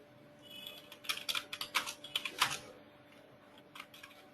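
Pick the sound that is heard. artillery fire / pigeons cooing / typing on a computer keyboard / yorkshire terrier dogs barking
typing on a computer keyboard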